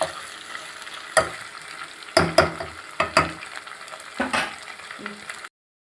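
Onions frying in a pan for a home-cooked potato curry lunch, a continuous close sizzle broken by several sharp scraping strokes of a spoon stirring, then a sudden cut to silence near the end.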